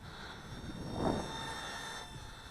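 Air Hogs RC Batwing toy aircraft at full throttle with a weak battery, giving a steady whining motor drone with a faint high tone and a brief swell in the middle, moderately loud and without speech.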